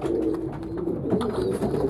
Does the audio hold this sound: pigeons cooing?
yes